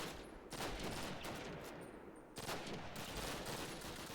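Gunfire in the video game Call of Duty (2003), Soviet campaign: bursts of rapid shots in dense fusillade bands, fairly loud against a continuous battle din, with no talk over it.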